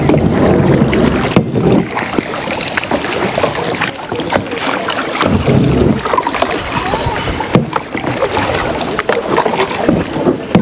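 Kayak paddling on the sea off a South Goa beach, with continuous water splashing and paddle strokes against steady wind noise buffeting the microphone, close and fairly loud throughout.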